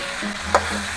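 Ginger slices stir-fried in a pan with chili bean paste for braised pork trotters: a steady close sizzle with one sharp spatula scrape midway, no voices.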